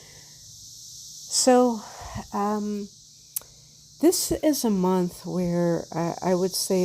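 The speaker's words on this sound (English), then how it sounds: "If you hear some noises rattling in the background, that's the cicada invasion." Cicadas rattle and buzz steadily in the background, a constant high insect drone running beneath a person talking throughout.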